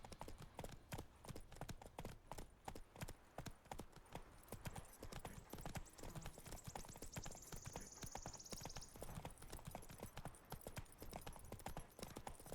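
Hooves clip-clop in a fast, regular beat throughout, a horse trotting or galloping in The Witcher 3, close and continuous with a faint whinny-like tone midway.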